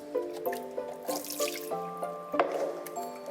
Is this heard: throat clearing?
no